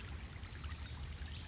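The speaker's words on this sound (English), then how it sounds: "all the water that's flowing on the road" Rainwater running down a road after rain, a steady, close rushing and trickling wash with a low rumble underneath, continuous and unbroken with no voices.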